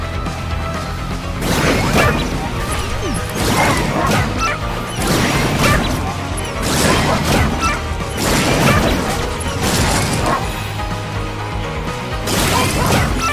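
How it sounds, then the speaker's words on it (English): Glass shattering in the video game Astro Bot, a run of loud, repeated crashing smashes spread through the stretch over steady game music, with no talk. "But then you have to blast through the glass here."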